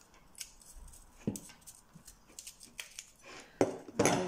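Knife cutting the tail end off an onion on a board, a run of close, crisp clicks and crunchy chops that grows louder toward the end, with no talk over it.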